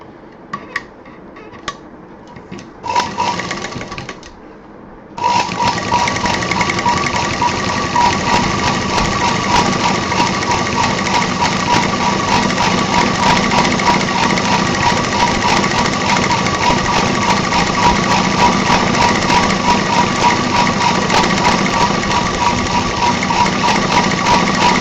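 A sewing machine stitches along the edge of a handbag, starting with a few clicks and a short burst, then settling into a loud, continuous, steady whirring hum close by.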